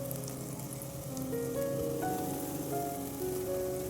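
Dried shrimp (jawla) hitting hot spiced oil with onion greens, a steady loud sizzle and crackle running throughout, with no voices.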